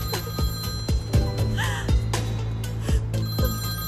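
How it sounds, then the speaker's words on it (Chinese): A telephone ringing indoors: a repeated electronic ring in short, evenly spaced bursts, fairly close and clear, with soft dramatic music beneath. "万有赫的电话， 打给美迪"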